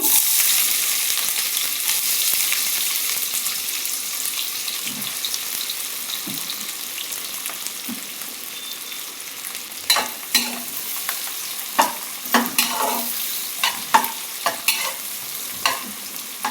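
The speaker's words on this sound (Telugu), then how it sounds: "ఆయిల్ బాగా హీట్ ఎక్కింది కదా అందుకని బాగా చిరుపట్లు ఆడుతున్నాయి అదే టైంలో ఆనియన్స్ వేస్తున్నాను" Onions fried in very hot oil for a homemade birthday meal: steady broadband sizzle throughout, with a run of sharp clacks and stirring knocks in the last several seconds, close and fairly loud, no talk.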